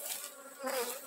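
Honey bees at a forest apiary buzz steadily and close, a dense wavering drone that swells slightly midway, with no voices.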